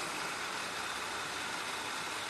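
A drilling machine runs at 315 RPM spindle speed, giving off a steady, even whirring hum with no change in pitch, faint and continuous, with no voices.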